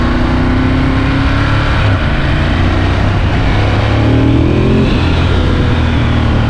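A 2017 Ducati Monster 1200S revs on a quick throttle while riding, a loud, close engine roar whose pitch rises and falls over several seconds beneath steady wind and road noise.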